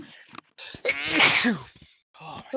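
One loud, forceful sneeze bursts out close by during a tabletop role-playing game session, with brief exclaimed speech just before it and more talking after.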